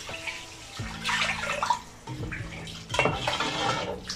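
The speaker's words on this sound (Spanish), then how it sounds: "Y también le aplicamos 2 vasos de agua." A glass of water poured into a pot of chicken locrio on a Dominican home stove splashes in two rushing bursts, close and fairly loud, with clinks of glass against the pot around them.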